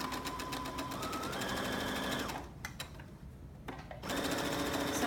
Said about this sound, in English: I'm going to stitch forward a few and then reverse to the end